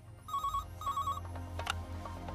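Telephone bell ringing in repeated double bursts indoors, fairly loud and close over a low background hum, with no voices.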